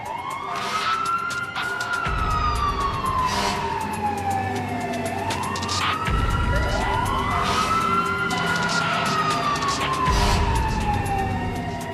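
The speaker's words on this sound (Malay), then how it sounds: "mengejarkan 2 kereta bomba ke tempat kejadian" Fire engine sirens wailing as two fire trucks race to a house fire in the Tiong Bahru area, a loud rising-and-falling wail repeating in long sweeps with layered siren tones and passing traffic rumble.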